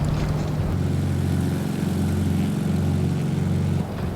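Engine drone of the Carenado WYMF5 propeller plane rolling in Microsoft Flight Simulator, a loud, steady buzzing roar with a low propeller hum that drops slightly near the end, with no talk.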